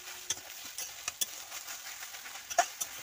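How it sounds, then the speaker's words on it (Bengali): Susni greens being stirred in a pan with salt and turmeric, faint scraping clicks and taps at irregular intervals over a quiet low sizzle, close and soft, with no talk. "এটা ভালো করে নেড়ে দেব"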